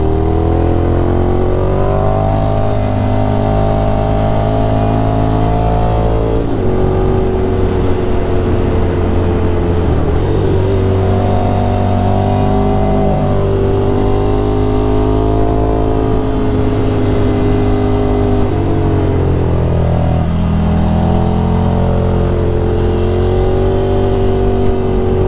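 Ducati Scrambler Desert Sled motorcycle engine revving steadily while climbing a hill, a loud continuous close-up drone whose pitch rises and falls with throttle changes over the whole stretch.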